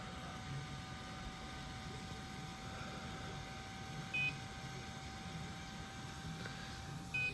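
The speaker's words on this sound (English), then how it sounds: "My remote's beeping because my battery is about to die" Two short, high electronic beeps several seconds apart from a remote control with a low battery, over a steady mechanical hum and whine of a turning fan.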